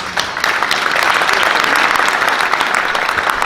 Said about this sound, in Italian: vi facciamo un applauso grande perché sono tutti emozionati